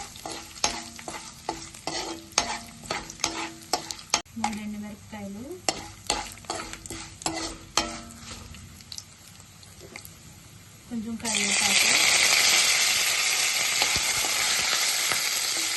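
Spices, dal, dried red chillies and curry leaves sizzle and crackle in hot oil for a Telugu curd rice tempering, with stirring clatter and someone talking over it, the frying swelling into a steady loud hiss near the end.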